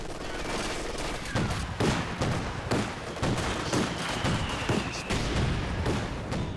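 Battle gunfire from the real-time strategy game Company of Heroes 2, with dense bursts of rifle and machine-gun shots and heavier booms in a steady crackle of combat, and no voice heard.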